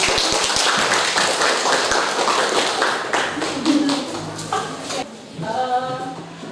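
Classroom applause breaks out with rapid overlapping claps from a group of students, strong at first and thinning into scattered clapping as voices and chatter rise over it.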